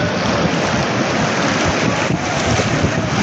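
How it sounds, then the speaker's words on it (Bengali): Sea waves surge at a beach in Cox's Bazar as the current rises, a loud continuous wash of surf mixed with strong wind buffeting the microphone, with no talk. "পানি আস্তে আস্তে স্রোত বাড়তেছে,"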